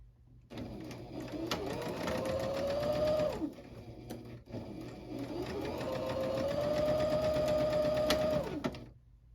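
A sewing machine stitches a half-inch sleeve seam on a dress in two long, steady runs, each rising to a high whir and then stopping, with a brief pause between them.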